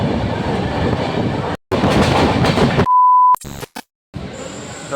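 A train rumbles and clatters past at Asansol Junction, interrupted by sudden cuts of silence and a steady electronic beep tone.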